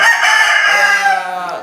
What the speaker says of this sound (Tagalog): napakagandang manok ito sir